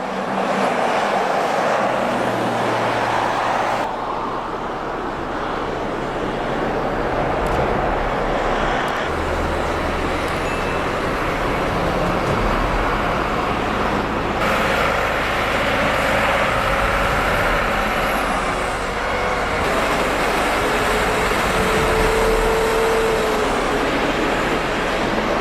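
Dense heavy truck traffic on a highway, with high-powered diesel engines droning steadily and continuously, a loud broadband rumble of passing vehicles that never lets up.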